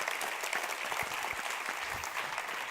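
Dense, steady applause from an audience at an innovation trophy ceremony honoring a laureate, a continuous wash of many hands clapping at moderate distance with no voices standing out.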